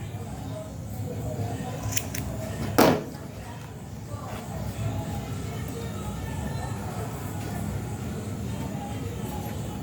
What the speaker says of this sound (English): you cut your yarn